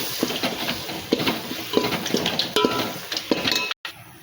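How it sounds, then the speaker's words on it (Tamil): A spoon scrapes and clinks against a cooking pot while spices and chili powder are stirred into a garlic pepper kuzhambu, giving irregular close knocks and shuffling scrapes over a soft sizzling background. "போட்டு நல்லா கிண்டிடுங்க."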